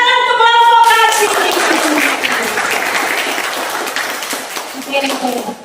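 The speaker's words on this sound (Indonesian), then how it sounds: "Tepuk tangan untuk kelompok kasih." A classroom of students applauds a student group, a burst of lively clapping that starts while a voice is still speaking, then continues as a steady loud wash before voices return near the end.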